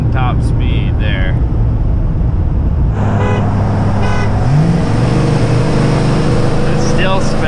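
A 2019 Ram Hemi pickup and a 2015 Ram Hemi pickup launch hard with tires spinning, a loud continuous V8 roar and road noise filling the whole stretch, while a voice talks over it.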